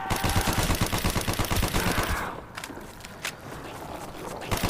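Rapid hip-fired automatic gunfire in Call of Duty Black Ops Zombies on Kino Der Toten rattles loud and dense for about two seconds, then stops, leaving quieter scattered game sounds and a few isolated shots.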